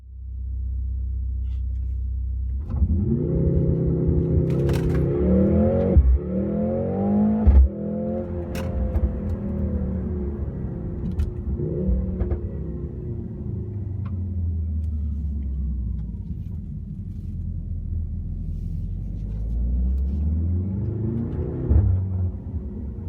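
A 2025 Mercedes-AMG GLC 63S E Performance plug-in hybrid in race mode pulls away, its engine revving up through several gear changes with rising and falling pitch, heard loud and continuous from inside with no talking.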